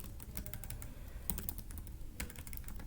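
Rapid keystrokes clatter on a computer keyboard, a close, irregular run of crisp clicks with short pauses, with no voices over them.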